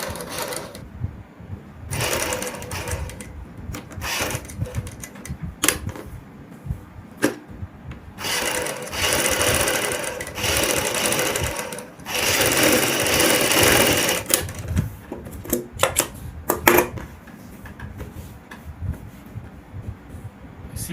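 A sewing machine stitches around a kurti or suit neckline, running in bursts of steady mechanical whirring with short pauses and handling rubs between runs, loud and close with no talking.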